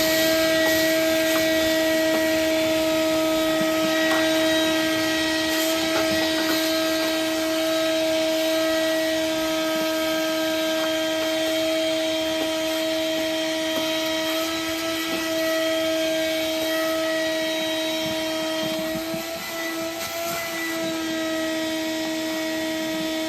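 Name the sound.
vacuum cleaner vacuuming out car cabin air intake area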